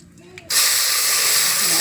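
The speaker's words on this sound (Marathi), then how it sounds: "आता थोडीशी मोहरी टाकून घेऊ जिरी आणि हळद" Mustard seeds, cumin and turmeric hit hot oil in a tempering: after a quiet half second a loud, sudden hiss bursts up and holds steady and close to the end.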